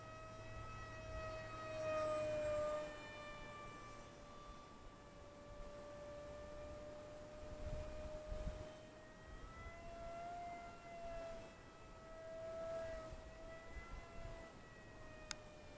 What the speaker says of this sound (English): That's a pretty fast little plane.